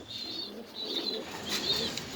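Pigeons at a pigeon breeding farm give soft, repeated coos, a steady low murmur of several birds with occasional faint chirps in the background.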